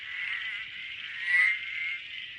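Northern heath frog calling from ferns in heathland, a steady high-pitched trill or buzz holding for the whole stretch with a slight swell near the middle, fairly close and alone with no voices.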